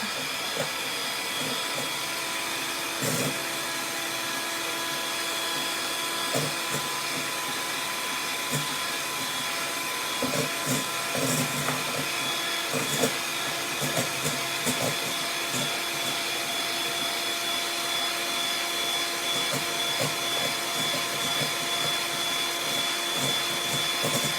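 An electric mixer whips a frothy coconut macaroon mixture, a loud, steady motor whine with a rattling edge that runs continuously throughout, with the power being turned up.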